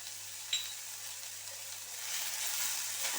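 Onions with salt frying in a pan: a soft, steady sizzle with one small clink early on, faint and close, swelling slightly louder toward the end, no voices.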